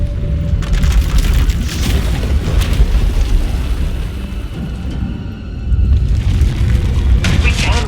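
Vaylin's power erupts in SWTOR, a heavy, continuous rumbling roar with deep booms that swells, dips briefly, then surges again, while a voice speaks over it.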